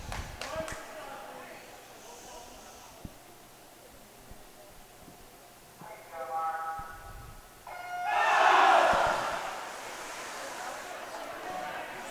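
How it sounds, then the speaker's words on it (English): Swim team teammates cheering and shouting support at a college swimming and diving meet, a loud burst of crowd voices rising around the middle and swelling near the end over a reverberant pool-hall background. "As you can hear, just that amount of support from the rest of the team."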